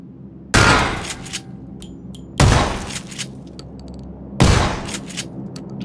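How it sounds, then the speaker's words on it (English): Three loud single gunshots from the video game PUBG go off a couple of seconds apart, each a sharp crack followed by a short fading tail, with no talking. "Is that you shooting?"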